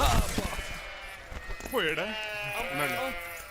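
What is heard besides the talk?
sheep bleating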